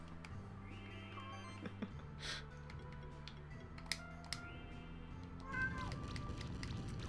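A pet cat meows in the background, wanting to be let into the room, faint and muffled under video game music and keyboard clicks.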